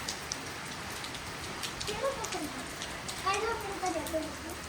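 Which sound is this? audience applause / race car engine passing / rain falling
rain falling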